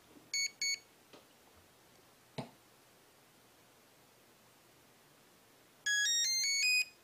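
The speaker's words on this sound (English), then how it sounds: "Okay, five beeps." A HobbyWing Platinum PRO 40A ESC sounds electronic tones: two short high beeps near the start, then a rapid run of rising melodic beeps at the end, clear over quiet background with a couple of soft clicks.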